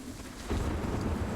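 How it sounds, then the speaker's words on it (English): Steady broadband rain hiss with a low rumble, rising in loudness after a moment and continuing evenly, from the dynamic weather system of the video game Sniper Ghost Warrior 3. "We have a dynamic weather system, so now it's raining."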